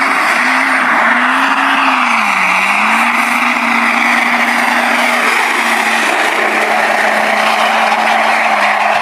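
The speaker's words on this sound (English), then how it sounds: "Pop up the video of a Black Widow drifting around the corner." A Duramax race truck drifts around a corner, its engine holding a steady high, wavering note while the tires squeal loudly and continuously throughout, with no talk.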